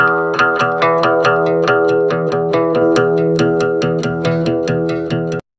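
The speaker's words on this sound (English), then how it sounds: "So it's guitar picking, like an electric guitar." Electric guitar notes are picked in a quick, even rhythm, a steady run of bright plucks that ends abruptly after a few seconds.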